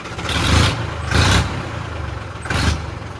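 A tractor engine, a Farmtrac or Swaraj model 60, idles up close and roars in three short revving bursts that swell and fall over a steady low rumble.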